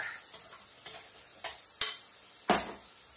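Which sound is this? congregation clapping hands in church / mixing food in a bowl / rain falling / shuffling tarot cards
mixing food in a bowl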